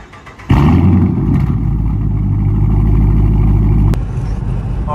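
A Dodge Charger R/T with muffler and resonator deleted and 5-inch tips fires up with a sharp crack, then settles into a loud, deep, steady idle rumble close by, with a brief blip near the end.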